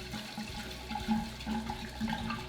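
Gin poured from a full 70 cl bottle into a large punch container, a steady gurgling liquid stream with rhythmic glugs, close and fairly loud, with no talking.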